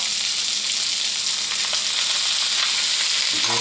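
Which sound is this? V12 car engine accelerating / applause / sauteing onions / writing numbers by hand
sauteing onions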